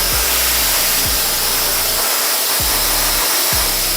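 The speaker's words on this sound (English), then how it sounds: "You can even roll and hold and just blast dry at the front." A hair dryer blasts steadily at close range while hair at the front hairline is rolled and dried, with a constant loud airy roar and a low motor hum that pulses and drops out briefly a few times.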